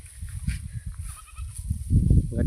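Sheep out grazing give low, close bleats and rough murmuring calls that grow louder toward the end, over a faint outdoor background.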